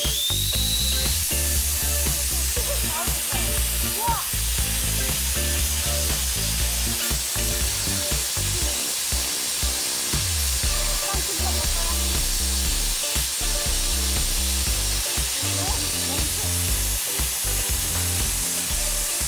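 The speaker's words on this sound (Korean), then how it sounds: "그래서 그 수분을 이쪽 뒤쪽에 있는 밸브로 빼줄 거예요." Compressed air and moisture blasting out of a drain valve on an air tank at a self-service car wash, a loud continuous hissing roar with spitting, gurgling water for the whole stretch.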